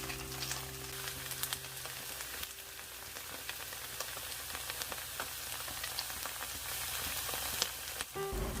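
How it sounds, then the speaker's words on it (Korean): Korean potato pancakes frying in a pan, a continuous close sizzle and crackle much like rainfall, with occasional spatter pops and no talk. "감자전이 익어가는 소리, 빗소리와 같네요."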